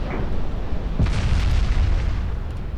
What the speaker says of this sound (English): We're scoring torpedo hits.